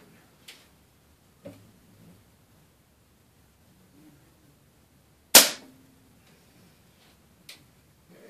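Air rifle firing a Daisy .22 wadcutter pellet, a single sharp close crack with a quick decay amid a quiet room with small clicks and handling noises before and after.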